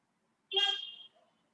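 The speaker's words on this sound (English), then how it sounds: "we heard a car horn" A single car horn toot, fairly faint and heard alone over near silence, lasts about half a second and tails off.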